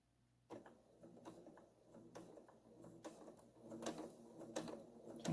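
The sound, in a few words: sewing machine top stitching a zipper bag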